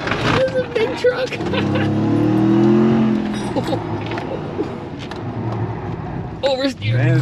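Ram TRX pickup truck on an autocross course, engine revving and surging loudly as it accelerates, with a heavy low rumble rising and falling while people talk over it.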